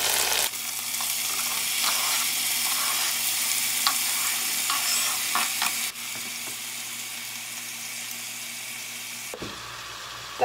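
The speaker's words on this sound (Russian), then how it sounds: "Когда лук начинает менять свой цвет на более белый, добавляем помидоры и соль" Onion, tomatoes, salt and pepper frying in a pan for a chicken dinner, a loud steady sizzle with faint scraping of stirring, close and continuous, briefly dropping in level midway and cutting out near the end.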